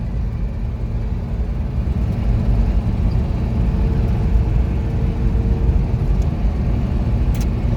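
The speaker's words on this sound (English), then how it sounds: "Going pretty well for Hilux its age." An ageing Toyota Hilux pickup truck on the road, heard from inside as a loud, steady low engine and road rumble that rises slightly after a couple of seconds, with no talk.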